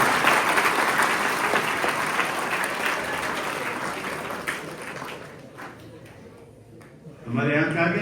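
Loud, dense applause from an audience of students at a constitution seminar in Bhopal fills the room, thinning out after about five seconds before a voice starts speaking again.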